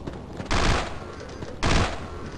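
Two loud bursts of gunfire from the horror video game Afraid of Monsters, each a short rattling volley about a second apart, harsh and close over a low background hum.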